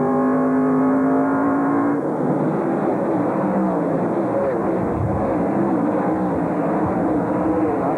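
Race trucks in a 1997 NASCAR Craftsman Truck Series event at I-70 Speedway roar continuously, engines droning and shifting pitch as they run side by side around the oval, loud and steady throughout.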